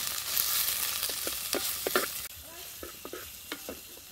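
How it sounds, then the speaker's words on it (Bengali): Chopped onions sizzle in hot white oil in a pan. A steady frying hiss runs under repeated scrapes and clatters of a spatula stirring, heard close and fairly quiet. "তেল গরম হয়ে গেছে, এবার আমি পেঁয়াজ কুচিটা দিয়ে দেব। পেঁয়াজটা একটু লাল করে ভেজে নেব।"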